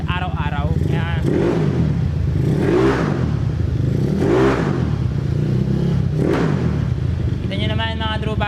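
A Yamaha Mio motorcycle with a 161cc semi-race engine revs repeatedly during a sound check, loud and close, with rhythmic surges of throttle rising and falling over a continuous idle.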